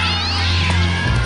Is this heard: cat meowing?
yes